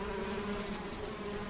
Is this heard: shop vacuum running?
no